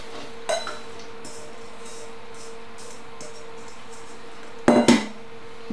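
Minestrone vegetables, including tomatoes and cabbage, stirred in a pan: a few sharp clanks and scrapes of a utensil against metal, one near the start and a louder cluster near the end, over a quiet background.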